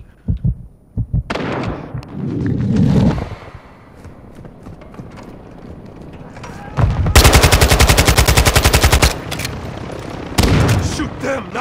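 Loud Call of Duty battle royale gunfire arrives in bursts. A long, rapid automatic stream dominates the middle, with shorter volleys before and after, close and punchy.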